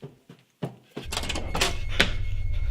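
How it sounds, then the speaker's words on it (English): Strange knocking on walls in a dark room, a few separate hollow knocks at first, then a dense rumbling clatter that builds and stays loud to the end. "a series of strange knocking sounds echoed along the walls"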